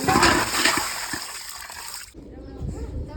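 Water splashes and sloshes as a household water tank is cleaned, with bursts of splashing that settle into quieter, lighter movement of water toward the end.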